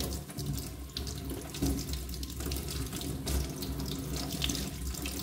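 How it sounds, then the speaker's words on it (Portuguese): Cold tap water runs in a steady, close splashing stream over a firm, freshly unmolded homemade cheese in a kitchen, continuous throughout without speech. "Aí eu gosto de passar uma água, passo água fria."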